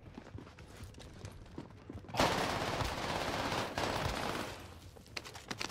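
Rapid gunfire in a shooter video game, a dense, sustained burst of loud crackling shots erupting after quieter scattered pops and continuing for several seconds.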